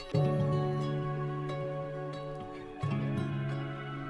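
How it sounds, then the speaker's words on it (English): Plucked guitar chords ringing out, one strummed chord sustaining for a few seconds, then a second chord struck and left to ring. "So I found this guitar from Splice."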